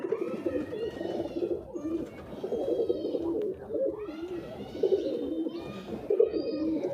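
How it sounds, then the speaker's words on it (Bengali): Several pigeons coo close by in repeated soft, throaty rolling calls that overlap in a steady rhythm, with a few faint chirps from other birds mixed in. "দেখেন কত সুন্দর কবুতর।"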